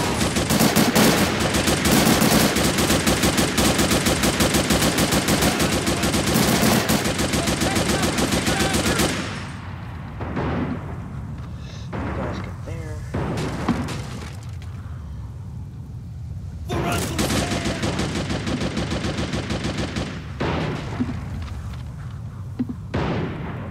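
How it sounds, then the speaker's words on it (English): Sustained rapid machine gun fire blasts for several seconds in a World War II Battle of the Bulge mission of the MOWAS 2 Valour Mod game, then gives way to scattered shots and a second loud burst of firing. "On that machine gun."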